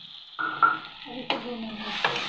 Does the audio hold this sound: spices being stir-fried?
yes